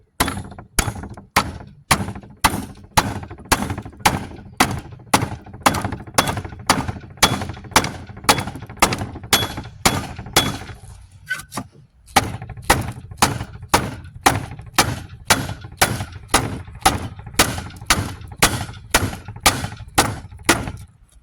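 Heavy metallic blows pound the rear hub of a 2006 Dodge Grand Caravan to drive out the wheel bearing, a loud, regular series of sharp hammer strikes with a brief pause midway before the pounding resumes.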